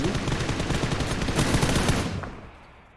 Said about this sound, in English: Pretty much everyone is shooting Orange and Hiruzen over here.